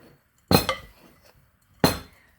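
Spoon clinking against a bowl while stirring chopped pecans into a crumbly butter topping for sweet potato casserole, two sharp close knocks about a second apart with softer scraping between.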